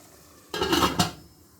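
A metal lid is set onto a pot of simmering keema matar, producing two quick clanking knocks about half a second apart, close and fairly loud against a quiet kitchen background.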